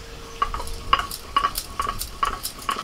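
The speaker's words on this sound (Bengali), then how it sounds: "ভাজা মশলাটা গুলিয়ে দিচ্ছি।" A utensil stirs fried vegetables into sizzling spice paste in a pot for a Bengali village feast dish, giving repeated scraping clinks at a steady rhythm over a low background sizzle, close and moderately loud.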